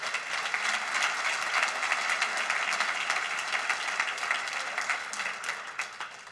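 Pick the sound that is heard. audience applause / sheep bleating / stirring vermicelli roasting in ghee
audience applause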